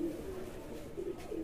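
Pigeons coo softly at a rooftop pigeon loft, a few low repeated calls over faint background murmur, fairly quiet and close.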